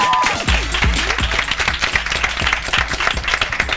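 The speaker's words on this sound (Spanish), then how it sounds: "¡Fuerte el aplauso!" Studio audience applause greeting a band at a Spanish interview show, steady loud clapping with crowd noise and a low music beat running underneath throughout.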